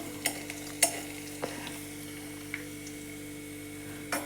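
Garlic fries quietly in oil for a bitter gourd curry, a faint steady sizzle punctuated by a few sharp spatula taps against the pan.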